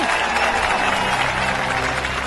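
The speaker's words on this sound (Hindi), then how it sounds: "ताली बजाओ ताली" An audience applauds in a steady, dense wash of clapping lasting a couple of seconds, with crowd noise mixed in.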